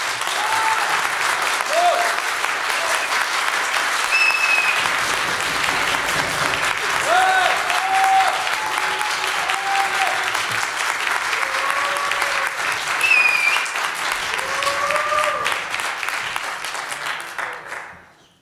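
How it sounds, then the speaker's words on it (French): Sustained audience applause at an awards ceremony, dense steady clapping from a large crowd that holds for many seconds before fading out, with a few voices faintly underneath. "quand je vais baisser le bras, applaudissez pour test étoile malaria."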